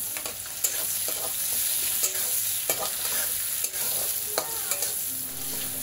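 Onions frying with green chili, garlic and bay leaf in a pan, a steady sizzle with intermittent spoon scrapes and stirring clicks, close and continuous with no voices.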